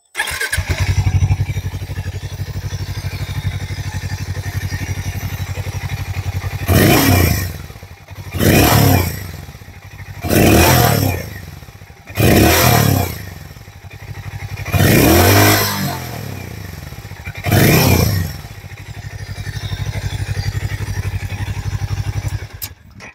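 A Hero Mavrick 440 motorcycle idles steadily, then its exhaust barks through six sharp revs of the throttle, each rising and falling back to a loud, close idle with no talking.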